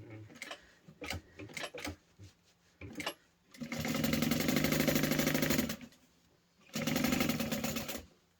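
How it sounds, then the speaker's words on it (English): A sewing machine basting and top stitching a backpack, first a few short clicks and taps, then two long close runs of rapid mechanical stitching separated by a brief pause. "So I am going to baste the bottom close, and we're going to be top stitching everything."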